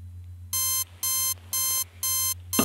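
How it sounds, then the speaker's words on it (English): An alarm clock rings in four loud, evenly spaced beeping bursts, each about a third of a second long, with no voices over them. "Your alarm clock has not gone off yet. Well, it's about to go off in 3, 2, 1."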